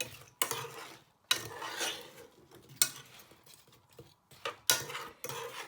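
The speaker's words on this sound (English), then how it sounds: "Just give that a little stir with your spoon so it all gets coated in" A spoon scrapes and stirs apples with sugar in a pan for apple crumble, making several separate close scraping strokes with short quiet gaps between them.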